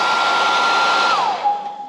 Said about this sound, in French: Le sèche-cheveux est en route.